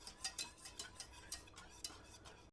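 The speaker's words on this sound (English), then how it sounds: "I'm just going to go ahead and give that a stir on medium heat until it's thickened" Whoopie pie filling stirred in a pot over medium heat, a spoon scraping and swishing in steady quick strokes, quiet and close, with no talking.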